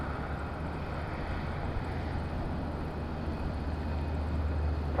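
Airplane engine roar during takeoff at Madeira Island Airport, a steady, fairly distant broadband rumble with a low drone that swells slightly toward the end, no voices.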